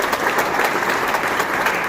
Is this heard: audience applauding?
yes